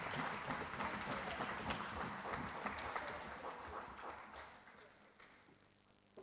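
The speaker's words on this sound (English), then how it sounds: "please give these amazing speakers a round of applause" Applause for the speakers at a political party branch meeting in St. Michael South, a fairly faint, steady patter of clapping from the audience that gradually dies away, with voices murmuring underneath.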